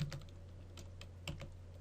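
Typing on a computer keyboard, a short run of soft, close key clicks with a slightly stronger keystroke near the middle, quiet, no voices.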